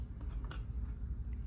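Scissors are picked up and handled for a paper-plate clownfish craft, giving a few faint metallic clicks and snips against a quiet background with no talking.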